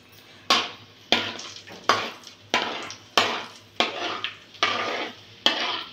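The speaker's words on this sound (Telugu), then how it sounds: "మనం జీడిపప్పు వేపుకోవాలి." Cashews and raisins frying in hot oil in a pan, sharp bursts of sizzle recurring roughly every half second to second as the pieces are stirred, each flare fading quickly, close and clear with no talk.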